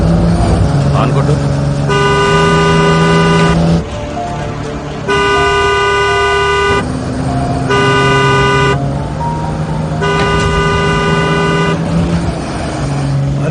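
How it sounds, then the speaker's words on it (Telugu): Car horn honking in a traffic scene from a Telugu-dubbed drama, several long loud blasts in a repeated pattern over engine noise and street background. "హార్న్ కొట్టు."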